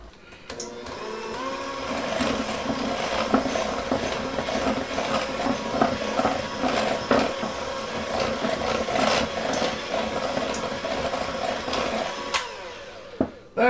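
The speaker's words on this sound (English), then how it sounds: "You're just mixing that together till it's nice and creamy." Oatmeal muffin batter is mixed in a bowl, heard as a steady mechanical whirring drone that starts after a brief pause and runs close and fairly loud until stopping at the end.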